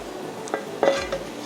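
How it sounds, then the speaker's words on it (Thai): A utensil scrapes and clinks against the side of a pot in a few light strokes, stirring rice-flour batter, a soft stirring sound with no talking. "คนแป้งก่อนนะคะ ส่วนผสมจะได้ไม่ตกตะกอนอยู่ที่พื้นด้านล่าง"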